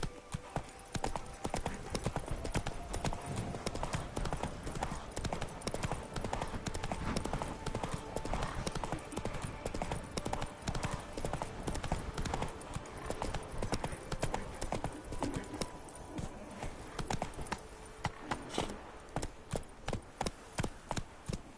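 Hooves of Roach, a horse in The Witcher 3, pound in a fast continuous galloping clip-clop, loud and close, with busy game ambience around it.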